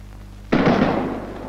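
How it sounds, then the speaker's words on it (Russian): A fireworks salute shell bursts abruptly into fragments, a single loud, sharp blast followed by a brief decaying rush of noise. "Во время салюта движущийся снаряд разрывается на осколки."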